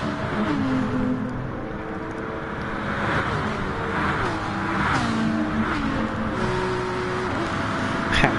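Race car engines growl and rev continuously in Gran Turismo Sport at Spa, including the number 19 Aston Martin GT3 car, with pitch sweeps as cars shift and pass, sustained loud engine noise throughout.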